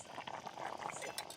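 Close bubbling of a pot of curry simmering on the stove, a steady wet gurgle with small pops throughout.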